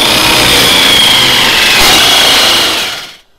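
A tube notcher cutting steel tube for a budget crosskart jig, a loud continuous grinding whine that strains as the motor bogs down, then cuts off near the end.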